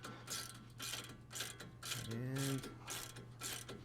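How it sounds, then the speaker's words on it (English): A socket wrench with a 24mm socket ratcheting on a tie rod nut of a Nissan Frontier, Pathfinder or Xterra, a quick run of faint clicks with a brief tonal squeak midway, close and quiet. "Grab our 24mm socket and socket wrench."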